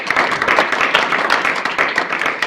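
Lively audience clapping for an exercise demonstrator after jumping lunges, a loud close burst of many hands applauding continuously for a couple of seconds.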